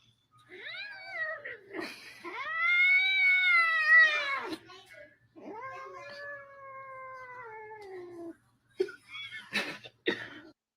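A pet cat meows repeatedly in long, drawn-out, wailing calls, loud and close, with brief pauses between them.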